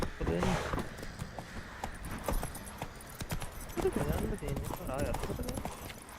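Horse hooves clip-clop steadily nearby with occasional snorts in The Witcher 3: Wild Hunt, while people talk over the top and faint jangling sounds come and go.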